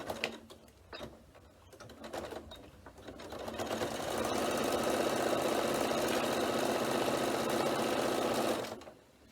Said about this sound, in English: now I'm going to stitch down both sides to hold that in place